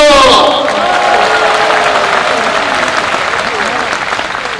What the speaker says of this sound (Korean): 그럼 지금부터 제22회 전태일 노동상 시상식을 여러분들의 큰 그 박수와 함께 시작하도록 하겠습니다.